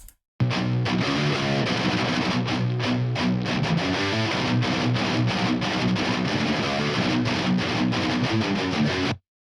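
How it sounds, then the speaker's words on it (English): Dense, distorted electric guitars play a steady chugging riff with sharp rhythmic stops, loud and continuous from start to finish, with no voices. "let's move on to the guitars. They sound like this."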